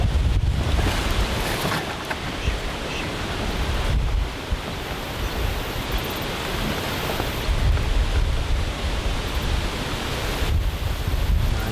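Strong outdoor wind buffets the microphone in a continuous, roaring rush that swells and dips for the whole stretch, with no voices heard.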